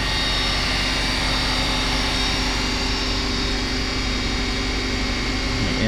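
A Fadal 4020 CNC machine's spindle spins up to speed, a loud steady machine whine with a constant hum running throughout, no voices.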